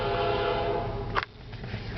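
A CN freight train on the move near New Haven, Michigan, with a loud horn blast and rumbling rail noise that drops slightly toward the end.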